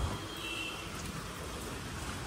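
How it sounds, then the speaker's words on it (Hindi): Steady, dense monsoon rain hisses continuously, a broad wash of falling water with no voices and no pauses. "सुबह से रात से बारिश हो रही है"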